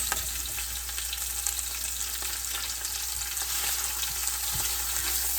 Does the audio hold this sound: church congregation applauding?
no